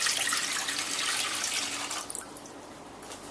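Three cups of water pour into a pot for making a giant gummy bear, a loud continuous hissing stream that cuts off, followed by a few faint drips and splashes.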